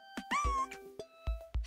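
A pet cat meows several times in short, close, clear calls with gaps between them, loud and alone with no talking.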